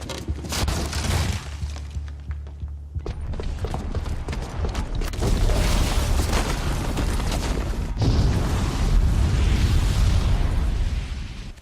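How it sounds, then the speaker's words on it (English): A bomb goes off in Horizon Zero Dawn: a heavy blast with crashing, shattering debris and rumbling that swells and lingers for several seconds, loud and close. "Fair explosion."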